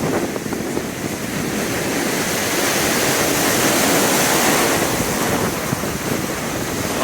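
Sea waves wash continuously onto a pebble beach in Batumi, with cold water surging and rolling in a loud, steady roar. Wind buffets the microphone throughout.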